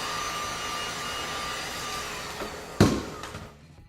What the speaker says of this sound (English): we'll throw a little heat on here. You can use a heat gun, or you can use a hair dryer